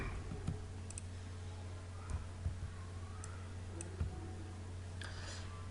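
Sparse, faint computer mouse clicks while working in CorelDRAW, single sharp ticks scattered a second or so apart over a steady low electrical hum, with no speech.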